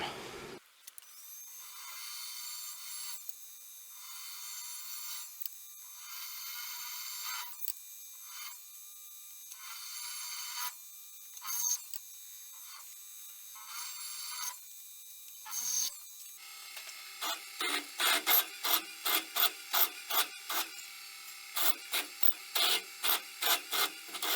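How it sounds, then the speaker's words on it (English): A drill bit boring extra holes through knife handle scales for a chef knife forged from a rusty spring: a steady high-pitched whine in long runs, then a quick series of short drilling bursts toward the end. "I'm going to come back in with this bigger bit, and I'm going to go drill a few extra holes in the handle"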